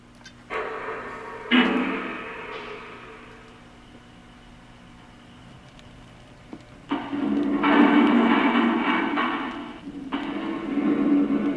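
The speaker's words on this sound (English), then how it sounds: "you'll hear just general racket as these cars move along the rails and the load shifts back and forth" Small wheels of Lionel model ethanol tank cars rumble and rattle along rails in surging waves, with clunks as loads shift, separated by quieter stretches of low hum.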